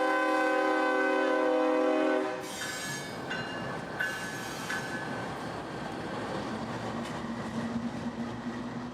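A CSX freight train, B371, turns the corner at Allen Street toward New Wales on the Bone Valley line in summer: a loud horn blast for two seconds, then a steady rolling rumble of cars and wheels nearby.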